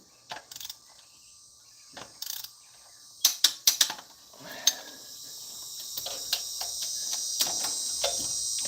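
A torque wrench snaps out a series of sharp clicks while tightening bolts during a Toyota Tundra starter install, the clicks clustering in quick bursts over a faint, rising background hum, with no talking.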